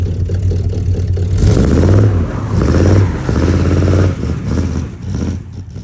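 A 1979 El Camino with a new carburetor, spinning its tires in a driveway, sounds loud and close: its engine revs up in several deep, throaty surges before dropping back, with no talking.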